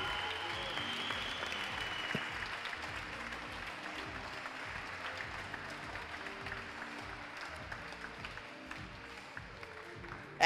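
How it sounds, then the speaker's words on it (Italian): Spectators applaud steadily for about ten seconds at an Italian bouldering championship final in Forlì, a fairly distant crowd clapping evenly, with a sharp sound at the very end. "voglio un applauso plateale per l'organizzatore e il direttore di gara, Marco Casadei Turroni Monti."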